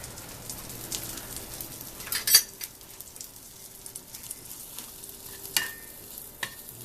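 Onions sauteing in grease in an extended-stay kitchen, a faint steady sizzle with a few brief stirring scrapes and clicks; no one talks.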